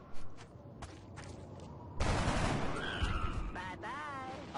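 A single shot fired by a soldier in the turn-based video game XCOM, a sudden loud blast followed by a sustained noisy rumble and game effects.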